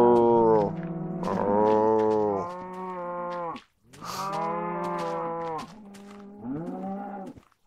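Cows moo in a barn inside a video game, several long loud lowing calls one after another with a short pause in the middle, and no talk over them.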